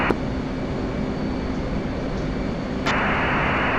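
An F/A-18 jet engine roars steadily in the DCS World flight simulator on a carrier approach in severe turbulence, a loud continuous broadband whoosh whose pitch and intensity step up sharply near the end.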